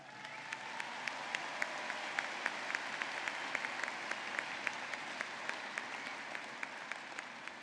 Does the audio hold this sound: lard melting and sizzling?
no